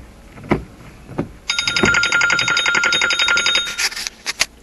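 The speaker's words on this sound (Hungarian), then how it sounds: "Na bocsánat, csak telefon volt." Telephone rings inside a car during a drive into New York State, a rapid electronic trill that starts abruptly and repeats steadily for about two seconds, with a few soft knocks before and after.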